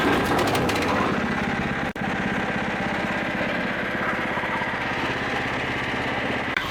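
A 16 HP petrol wood chipper engine running steadily at a loud, constant drone, with a brief dip near two seconds before resuming its even roar, no talking.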